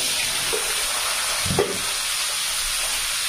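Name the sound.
cumin seeds sizzling as they are tempered in hot oil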